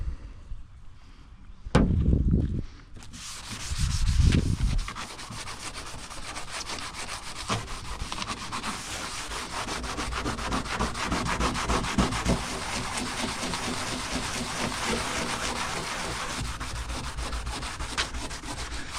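Old Binder paint is scrubbed with Comet cleanser: a couple of sharp knocks and rubbing bursts, then continuous gritty scouring strokes close up, with no voices.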